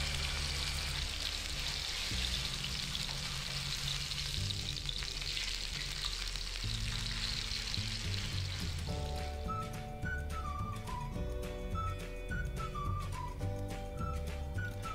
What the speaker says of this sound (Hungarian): A forró zsiradékon a csirkemellfilé mindkét oldalát süst fehéredésig.